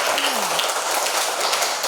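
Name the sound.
classroom applause for a student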